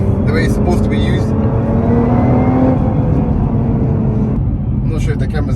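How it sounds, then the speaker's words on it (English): A 2021 Nissan GTR R35 driven hard on the road: a loud, steady engine and drivetrain roar with a thin high whine rising and falling over it, heard from inside the car. "I'm not sure if the camera's catching that whining sound, but it sounds so race car."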